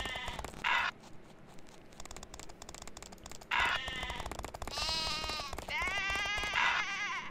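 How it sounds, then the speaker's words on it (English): Repeated sheep bleats from the PC game eVac-U8! From Windy Towers, several loud wavering calls over busy game music and effects. "I hope you've really gotten annoyed by the sheep noises"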